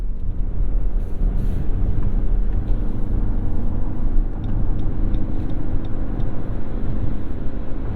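A 2022 Lexus NX350h hybrid cruising on a highway at about 72 mph, heard from inside the cabin as a steady, loud rumble of road and wind noise with no speech.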